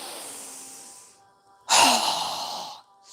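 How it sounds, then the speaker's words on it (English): A strong, breathy exhale pushed out through the mouth during a yoga breathing exercise as the arms are lowered, loud and close, starting abruptly and trailing off over about a second after quieter breathing. "exhale through our mouth with a strong exhale as we lower our arms and hands down"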